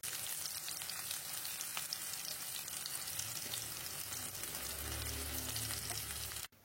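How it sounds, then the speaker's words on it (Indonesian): Sliced shallots sauté in hot cooking oil, giving a steady close crackling sizzle that thickens into a lower bubbling fry toward the end before cutting off abruptly, with no voices. "panaskan minyak goreng, tumis terlebih dahulu irisan bawang merahnya"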